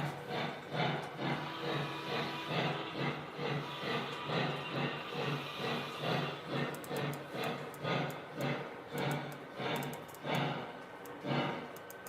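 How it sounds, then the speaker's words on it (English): The smoke unit on a model steam locomotive, a Mallet, hisses quietly. Soft puffs pulse in a regular chuffing rhythm, and faint clicks sound in the later part. "Smoke unit's a little bit noisy."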